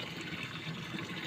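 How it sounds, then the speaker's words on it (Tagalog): A leaking washing machine lets water run and trickle out in a steady, close, even stream, with no voices over it. "It's leaking here."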